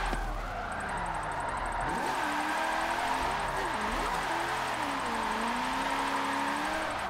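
A car drifting in the racing game Forza 7, its engine droning and bogging with wavering revs under steady tyre noise, close and continuous.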